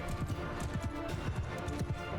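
A cavalry charge in Mount & Blade II: Bannerlord, with many horses galloping in a dense, rolling clatter of hooves, loud and continuous over a busy battle din.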